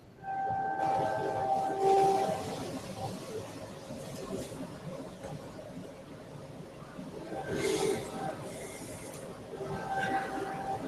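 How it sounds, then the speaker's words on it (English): A train rumbles steadily past at a distance, with a horn sounding and people talking over the continuous noise. "I hear the train somewhere."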